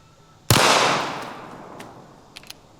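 A single loud, sharp gunshot from a Canik TP9 SFX pistol with a 5-inch barrel, firing a 115-grain hollow point into a watermelon outdoors. The shot rings out with a long decaying tail, followed by a couple of faint clicks.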